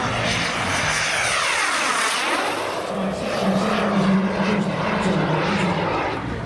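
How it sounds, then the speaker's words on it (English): An RC sports jet about 3 meters long, a Scorpion with a King Tech 210 turbine running on paraffin, roars steadily and loudly with a whining high hiss, its pitch sweeping as it passes near the field. "This powerhouse he's got underneath it is powered by paraffin. This is a Keytec 210 turbine."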